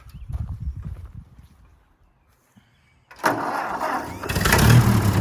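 A few rumbling sputters, then quiet, before an old Ford tractor engine catches and settles into a loud, steady idle.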